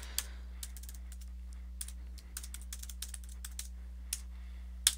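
Someone types login details on a computer keyboard, leaving sparse, crisp keystrokes that land irregularly over a low electrical hum in a quiet room.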